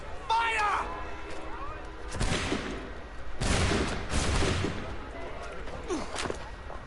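Musket volleys fired on command in Assassin's Creed III, two loud broadband bursts a second or so apart, with shouted dialogue before and after.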